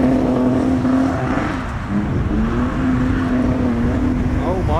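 Modified Toyota Supra pulling out of the exit at a Castle Combe spring track day, a steady droning engine note with a strong low tone that dips briefly and then climbs again, with loud nearby traffic noise throughout.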